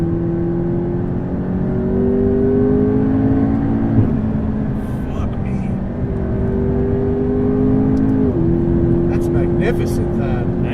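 An 840 HP McLaren MP4-12C drives fast on an open road, its engine a steady loud drone with rising and shifting tones from gear changes, while people talk inside the car over it.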